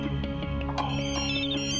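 A mobile phone rings in a domestic scene, its melodic ringtone playing steadily and clearly from start to finish with no voices.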